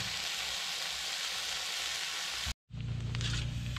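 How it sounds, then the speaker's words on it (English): Steady, dense sizzling of bacon frying close by in a Dutch oven, briefly cutting out before resuming with soft clinks and crackles. "Got some bacon sizzling."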